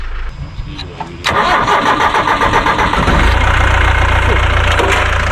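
A safari vehicle's engine in India, which would not start until oil was let out from under a lifted seat, cranks and catches with a sudden roar, then settles into a loud, steady rhythmic idle close by.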